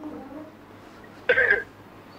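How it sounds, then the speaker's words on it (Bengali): One short, hard cough bursts out from a patient with lower back pain during an examination, loud and close after a stretch of quiet room tone. "জোরে কাশি দেন?"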